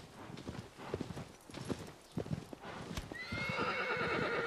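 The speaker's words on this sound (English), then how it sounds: "The horse is really not willing to go." Galloping horse in the video game Shadow of the Colossus, rhythmic clip-clop of hooves thudding steadily, then a loud whinny rising over the end; no talk.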